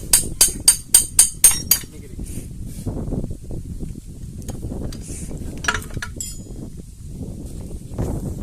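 Six sharp metallic knocks ring out in a quick, even series while knocking out a machine crank part during repair, then scraping and handling noises follow with a few fainter taps.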